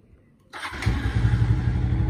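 A 2013 Suzuki Shooter motorcycle, over ten years old, starts up after a quiet moment and settles into a close, slightly uneven idle.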